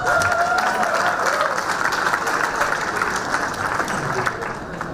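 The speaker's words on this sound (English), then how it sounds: "So give yourself a loud round of applause." Audience applause at a university graduation ceremony in Pune, a dense, sustained wash of clapping from a large crowd that fills the hall steadily, easing slightly toward the end.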